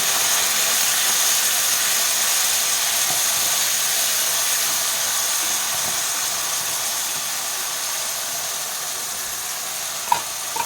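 Whole shallots, cumin and dried red chilies sizzle in hot oil for a prawn uppu kari, making a steady, even hiss that carries on unbroken, with one small click near the end and no voices.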